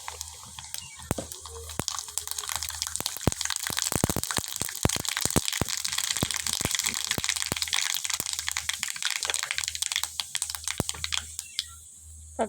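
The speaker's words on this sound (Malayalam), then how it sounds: "കടുക് നല്ല പൊട്ടി വന്നിട്ട് ഇനി കറി വെക്കും." Mustard seeds splutter in hot oil in a pan while tempering a gooseberry pickle: dense, rapid popping and crackling close by, easing off near the end, over a low background hum.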